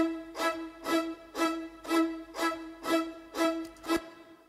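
Studio strings processed through a multiband compressor preset play eight evenly spaced, punchy staccato chords in a steady rhythm, each with a bright attack and a short tail, with no talking.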